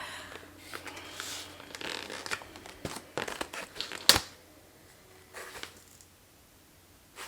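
Close crinkling and tearing of a master's degree diploma package in irregular bursts, with one sharp rip partway through, then quieter rustling.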